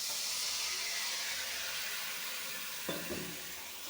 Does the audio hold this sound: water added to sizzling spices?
yes